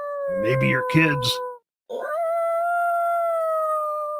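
Coyote howling, a long, loud, wavering tonal cry that rises and then holds steady, heard first beneath a person talking and then alone for a couple of seconds.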